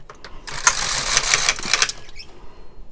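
A knitting machine carriage slides across a row in one steady, rasping mechanical pass of about a second and a half, close and fairly loud, with faint clicks before and after.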